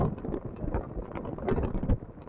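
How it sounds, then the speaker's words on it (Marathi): Gusty wind in a heavy monsoon downpour in Konkan rumbles and thumps against the microphone in uneven bursts, close and fairly loud, with no clear voices. "वारा भरपूर आहे"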